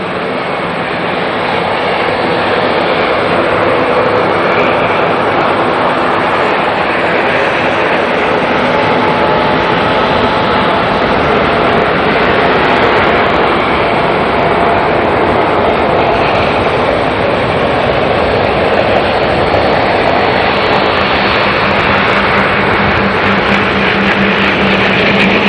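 Jet aircraft departing Auckland Airport, a loud broadband roar that holds steady throughout without pause, with no talk over it.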